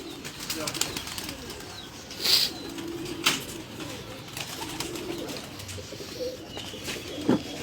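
Pigeons coo softly on a rooftop in a pigeon-keeping setting, with low repeated coos, a few chirps and a brief flutter of wings, quiet and close, while people talk intermittently.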